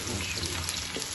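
Onions fry in a pot over the flame for chicken biryani, giving a steady, soft, even sizzle throughout that is heard close up but quietly.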